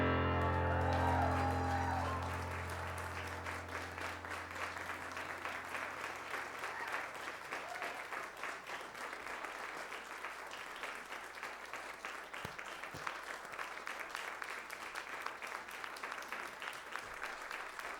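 An audience at a live musical guest performance breaks into applause as the last sustained notes of the music fade, then keeps clapping steadily and loudly for a long stretch with faint crowd murmur underneath.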